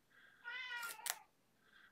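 A whiny house cat gives a drawn-out, plaintive meow with a brief higher squeak at its end, then a short fainter meow a moment later, close by in a quiet room.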